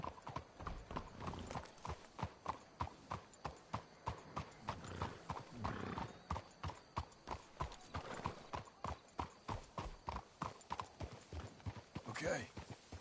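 Horses trot in the Western game Red Dead Redemption II, their hooves clip-clopping in a steady, even rhythm close by, while people talk over the hoofbeats and a brief neigh rises near the end.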